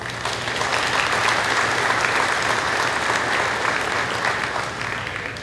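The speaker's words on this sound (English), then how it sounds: "Let's give Mark Murphy a round of applause." An auction crowd at a livestock sale gives a sustained round of loud, even applause, steady throughout with a faint low hum beneath.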